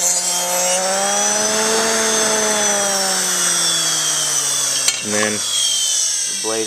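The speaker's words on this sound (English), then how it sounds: "So that's how you sharpen the blade on your lawnmower." A power tool grinds against a steel lawn mower blade, a loud continuous whine with a slowly shifting pitch that drops away near the end, then two short bursts of grinding follow.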